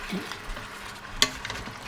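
A utensil scrapes and clinks against a pan over a faint sizzle, with one sharp metallic knock partway through.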